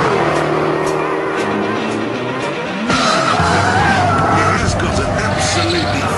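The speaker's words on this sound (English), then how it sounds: "The standard car sounds pretty good, but this is deeper, ruder, like Tom Jones gargling a NASCAR." A Jaguar XKR's engine roars deep and loud with a sustained rumble, and tyres squeal in a skid, shifting pitch partway through as the car is driven hard.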